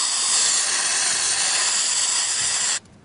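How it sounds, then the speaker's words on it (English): Brake cleaner sprayed from an aerosol can into an engine's combustion chamber during a cylinder leak test: one steady, loud, close hiss lasting nearly three seconds before cutting off abruptly. "get the brake cleaner after you clean the combustion chamber and fill it up"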